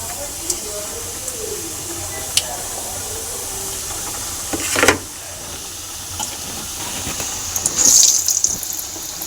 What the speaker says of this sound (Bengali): এবার একটা একটা করে আমি ভেজে নেব।